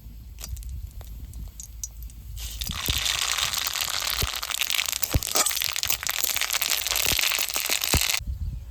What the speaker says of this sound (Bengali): প্রথমে সর্ষের তেল দিয়ে দেবো তেলের উপর দিয়ে দিচ্ছি শুকনো লঙ্কা আর কালো সর্ষে